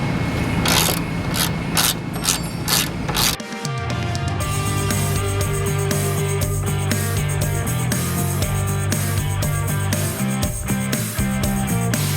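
A ratchet loosening shock mount bolts during front end disassembly of an AMC AMX, with loud, continuous mechanical clicking and grinding over dense workshop noise and a brief gap partway through.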